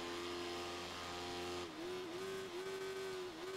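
Small motorcycle engine in the Ride 3 racing game, a steady high whine held level, then wavering in pitch as the bike brakes and shifts, loud and continuous with no talk.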